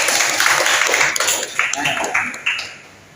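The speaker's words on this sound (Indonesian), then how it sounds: "Ya, tepuk tangan buat kelompok 3." Classroom applause for a student discussion group: a short burst of hand clapping, fairly close, with a few sharper individual claps standing out before it tapers off, with voices faintly mixed in.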